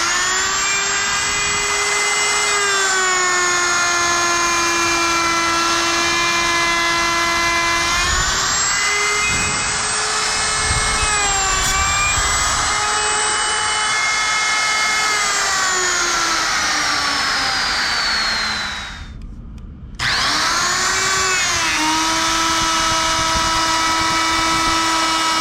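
Wood router spinning up and running steadily with a high whining tone, shifting pitch as it works, briefly dropping out near the end before resuming; loud and continuous with no talk.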